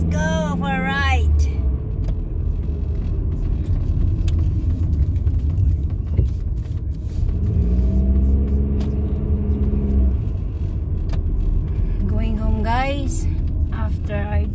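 Hyundai Getz car driving along a road, a steady engine rumble and tire noise filling the cabin throughout, with a voice talking over it at the start and end.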